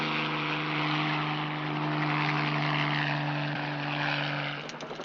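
A helicopter drones steadily in flight, its engine a constant, fairly close hum with a tonal whine that eases slightly at the end.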